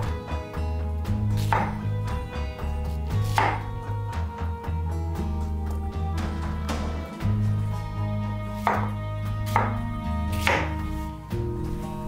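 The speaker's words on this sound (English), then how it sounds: "Then, I slice each quarter without moving the pieces." A knife cuts through pineapple quarters on a board in a run of crisp, repeated slicing strokes, close and fairly loud, over a steady low background hum.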